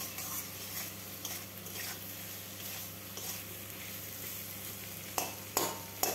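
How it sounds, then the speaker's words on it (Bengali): Spices cooked down with ginger-garlic paste and chilli powder sizzle steadily in a pan for a ghugni, with a spatula stirring and scraping now and then, and a few sharper clacks near the end over a low hum. "এইভাবে আমি ভাজতেই থাকবো, মশলার থেকে কাঁচা গন্ধ যেন চলে যায়।"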